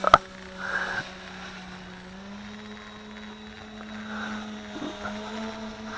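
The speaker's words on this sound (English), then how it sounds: "You can hear the power from those props." Steady mechanical whir of a WLtoys V383 quadcopter drone's small propellers spinning, a constant hum with a faint high whine, holding level for several seconds with a brief knock at the start.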